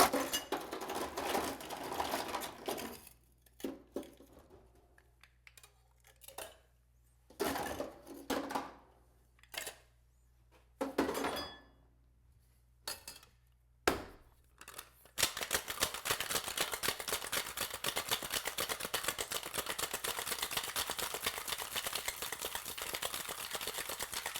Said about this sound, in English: Now I'm going to shake with ice.